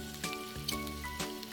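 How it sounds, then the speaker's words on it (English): Food sauteing in the OMORI video game gives a soft, continuous frying sizzle with brief crackling bursts, mixed under steady game music. "Hero's sauteing whatever."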